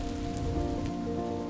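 Rain falls steadily across the open Serengeti plains at the start of the wet season, a dense, continuous patter of drops on the ground without pause.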